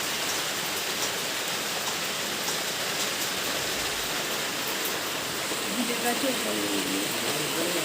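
Steady, dense rain pours down continuously, a broad hissing wash with no breaks from start to finish.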